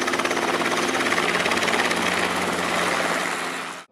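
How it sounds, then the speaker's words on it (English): A mustering helicopter's rapid rotor thudding pulses loudly and steadily, close by, then stops abruptly. "much of the mustering is done by helicopters"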